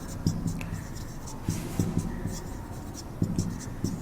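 Chalk or marker taps and scratches on a board in short clustered bursts during a trigonometry lesson, with faint talk underneath.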